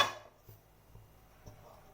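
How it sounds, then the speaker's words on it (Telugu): A cooking pot set down on a gas stove before oil goes in, one sharp metallic clank at the start followed by a few faint soft taps in a quiet kitchen. "గిన్నె పెట్టుకుని"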